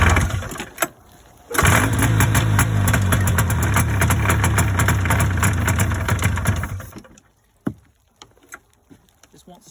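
An old snowmobile engine cranks, briefly catches, then runs rough and uneven for several seconds before dying out, loud and close, with a few faint knocks after it stops.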